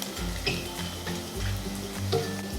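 Whole garam masala spices and cumin seeds fry in hot oil, giving a steady close sizzle with occasional crackles and light stirring scrapes, no voices.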